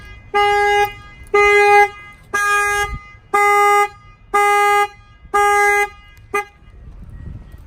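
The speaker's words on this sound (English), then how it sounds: "So now that the alarm went off" A Ford Escape car alarm, set off by a shock sensor, blares in six repeated long honking bursts with short gaps, then a final brief chirp before it stops; loud and steady.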